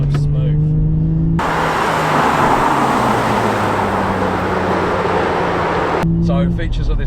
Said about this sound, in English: That engine's so smooth.